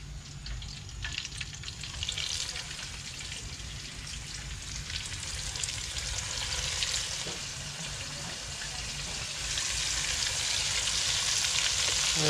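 Pieces of red snapper fry in hot oil in a pot for Guyanese-style curry, a steady close sizzle and crackle that grows slightly louder toward the end.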